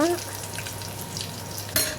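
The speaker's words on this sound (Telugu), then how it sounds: "వెల్లుల్లిని కొద్దిగా ఫ్రై అయిన తర్వాత కరివేపాకు కూడా వేసుకొని పోపు అనేది రెడీ చేసుకొని" Garlic and curry leaves crackle in hot oil for a tempering, a close, steady sizzle with a faint voice at the start and a sharp burst of spitting near the end.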